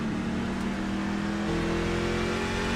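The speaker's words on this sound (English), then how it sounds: "Clutch is in, letting the truck coast into the corner." A race truck in the Lonestar Racing Truck Series at Richmond coasts into a corner with the clutch in. Its engine hums at a steady, fairly loud drone that shifts slightly partway through, heard from on board.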